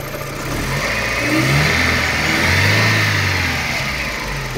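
Daewoo Nexia engine revving steadily as the throttle is held open during an alternator check, a continuous mid-pitched engine drone that swells slightly and then eases, close and loud with no talk.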